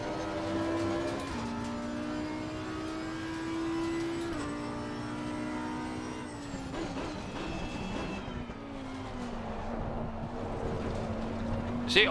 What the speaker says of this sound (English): See, oversteer again.